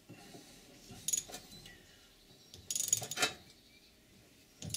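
A stud extractor twists a stud out of a Triumph Vitesse rear suspension, giving short bursts of metallic ratcheting and clinking, with a couple of close clusters separated by quiet pauses.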